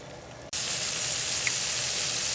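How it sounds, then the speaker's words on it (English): Six large pieces of veal sauté in a hot pan, giving a steady, loud sizzle that begins abruptly after a half-second lull and holds evenly to the end. "After these are sauteed for about 3 or 4 minutes, you'll see that you get sort of a light brown on the bottom"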